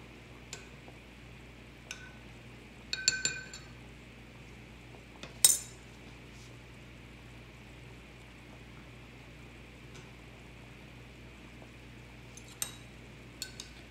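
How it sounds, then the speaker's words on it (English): A Pyrex glass measuring cup clinks against a metal double boiler pot while beeswax melts, giving a few sharp glassy taps and a louder clunk over a quiet background hum. "you got to be careful getting this Pyrex measuring cup out of your pot when you're double boiling it like this"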